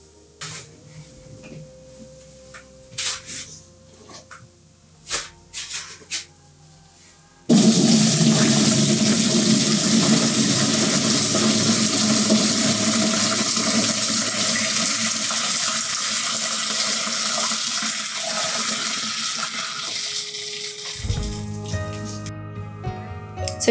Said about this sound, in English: So now I just need to strain them out because we don't want little bits of stuff in the fabric.